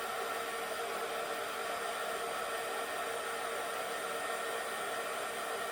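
A heat gun blows steadily on a handmade birthday cake topper to dry it, a constant close-up hiss of rushing air with no pauses and no voices.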